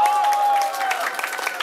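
An audience at a Lau Gar Kuen kung fu gathering honouring an elderly master claps in a brief burst of applause, mixed with voices talking over it.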